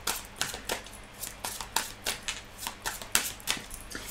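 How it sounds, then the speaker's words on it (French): Arcanum Tarot cards are shuffled by hand in quick riffling bursts, a string of crisp papery flicks and taps recorded up close and fairly quiet, with no talking over them. "Donc, on va mélanger le tarot."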